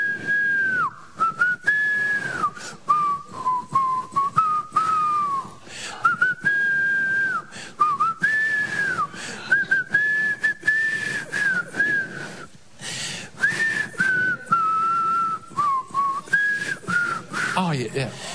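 Someone whistles a tune at length, a clear sustained melody broken by short pauses and occasional background noise.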